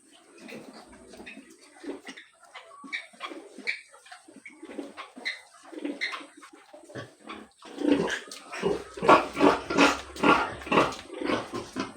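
Newborn piglets squeal and grunt in a busy, overlapping jumble around their sow, growing louder and denser toward the end, with short sharp cries close by.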